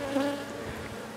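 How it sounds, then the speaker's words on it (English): Guard honey bees buzz close around a beekeeper during general hive maintenance, a steady droning hum with a brief louder pass near the start, no talking. "I still got these guard bees all over me."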